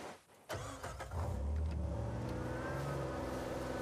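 A car engine in the video game Uncharted 4 starts with a short burst, then holds a steady, rumbling idle and low revving as the vehicle is moved into position.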